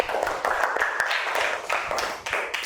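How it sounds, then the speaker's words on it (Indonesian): A school class claps together in a classroom lesson, uneven bursts of hand claps over about three seconds with some tapping mixed in. "tepuk tangan dulu buat semuanya"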